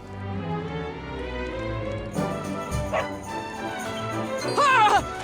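A dog in the video game Dragon Quest XI barks a few times, short yips and a whimpering cry near the end, over steady game music.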